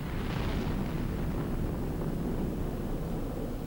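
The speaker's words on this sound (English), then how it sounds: "there's like an atomic bomb explosion going off here" A huge explosion in Grand Theft Auto III, a dense, sustained low roar and rumble that stays loud and constant throughout, with a brighter burst of crackling debris near the start and no talking.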